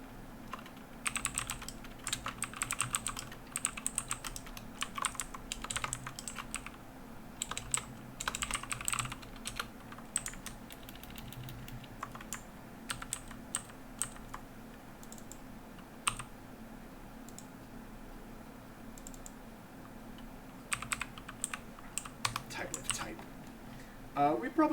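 Code being typed on a computer keyboard, bursts of quick close key clicks with short pauses, over a low steady hum.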